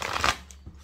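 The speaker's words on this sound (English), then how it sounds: "Just give the cards a few more shuffles and wait for my cards to tell me when to stop." Tarot cards being shuffled by hand, a quick papery riffle burst close to the microphone, followed by a couple of faint taps as the deck settles.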